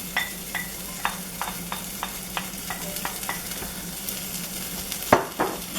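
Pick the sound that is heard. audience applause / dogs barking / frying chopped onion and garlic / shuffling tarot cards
frying chopped onion and garlic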